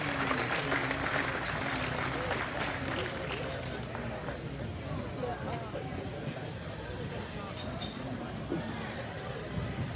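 Audience at a 2021 Arizona National swine showmanship competition breaks into steady clapping, a dense, moderately loud applause that gradually thins out over several seconds in an indoor arena, with faint crowd murmur beneath.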